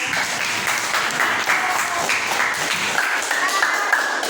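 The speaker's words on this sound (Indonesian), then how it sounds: "Berikan tepuk tangan dulu untuk kelompok kami." A classroom audience applauds a group's presentation with continuous clapping from many hands, steady and moderately loud, and a faint tone rings briefly near the end.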